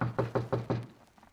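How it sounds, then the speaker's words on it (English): Knocking on a door as a radio drama sound effect: four firm, evenly spaced raps close up, each with a short resonant tail, followed by faint scattered after-sounds and quiet. "We better knock."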